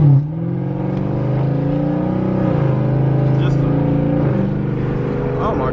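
A Chrysler 300 SRT8 fitted with a nitrous kit idles with a deep, steady engine rumble close by, rising slightly in a couple of small revs, while someone talks over it.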